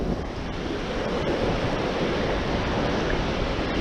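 Gulf of Mexico surf washing onto a Florida beach at Anclote Park, a steady broad rush of breaking waves with wind buffeting the microphone.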